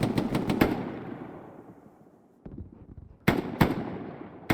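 Sharp, close blasts of a grenade exploding in a multiplayer shooter on a derailed-train map, a burst of rapid cracks followed by a long decaying rumble, then a dull thud and another pair of loud cracks, no voices.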